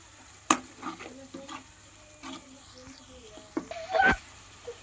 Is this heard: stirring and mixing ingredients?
yes